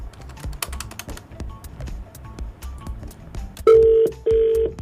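A phone number is punched in with a rapid series of soft key clicks, followed by two loud, steady tones as the call connects.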